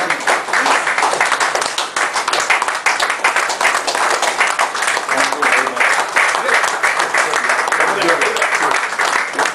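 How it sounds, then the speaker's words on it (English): Loud, sustained audience applause at a community gathering, many hands clapping densely and evenly throughout with no pauses, faint voices mixed in beneath. "I think you certainly deserve a big round of applause."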